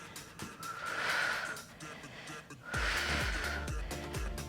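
Two long, forceful breaths, each a loud airy exhale, come during a home abdominal workout, followed by faint low thumps.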